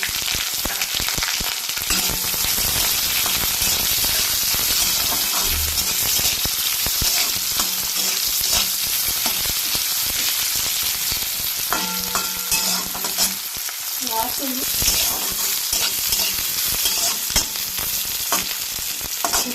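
Steady, loud sizzling of onions frying in a pan, with occasional scrapes and clinks of a spatula stirring throughout.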